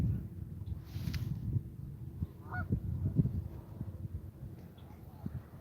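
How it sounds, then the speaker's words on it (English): A goose honks faintly in the distance during a sunset carp-fishing session by a lake, a few brief calls over steady low wind and outdoor rumble. "The goose is not agreeing with you, sir."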